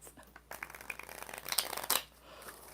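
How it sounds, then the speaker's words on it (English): Tarot cards being shuffled by hand, a run of crisp riffling bursts building to a louder flurry near the end, then settling into quiet. "4 shuffles."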